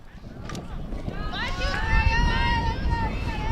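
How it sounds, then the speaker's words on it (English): A gust of wind rushes across an outdoor softball stadium during a game, a steady roar of wind noise on the microphone with faint whistling tones and background sounds underneath. "Another gust of wind."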